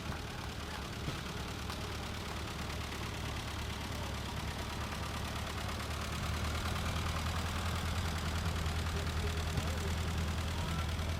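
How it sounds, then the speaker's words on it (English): An original, unrestored 1965 John Deere 110 lawn tractor idles at an outdoor old-iron show, a steady low engine rumble with crowd noise around it that thickens slightly partway through. "this little tractor is a 110 John Deere 1965 original"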